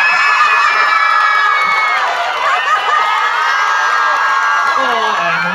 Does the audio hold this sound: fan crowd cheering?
yes